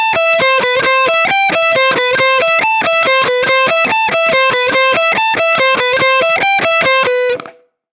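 A guitar solo is played on a heavily distorted electric guitar using the bridge pickup, with rapid evenly picked notes running up and down in a steady stream before stopping abruptly.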